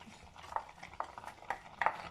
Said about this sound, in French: نخلي هادشي دابا يتقلى